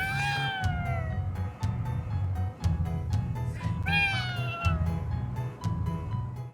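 A cat spirit in the video game Ghostwire: Tokyo meows twice in drawn-out, wavering cries, close and clear over a low rumbling game background.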